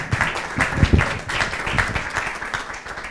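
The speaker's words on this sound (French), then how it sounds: "On l'applaudit." A live audience applauds as economist Pierre Fortin is called up on stage, a loud, close, sustained burst of many hands clapping with a busy, crackling texture.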